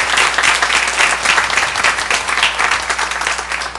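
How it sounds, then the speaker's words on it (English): A church congregation gives a dense, steady round of applause for the children who have just performed, with continuous loud clapping throughout and no talking over it. "Let's give them another round of applause."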